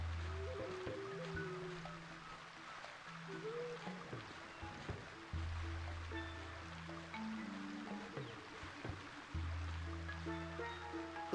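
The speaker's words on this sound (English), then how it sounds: "The waterfall washed off all the tar and feathers." Steady rushing water from a waterfall in The Curse of Monkey Island, a continuous wash carrying along beneath game music that plays throughout.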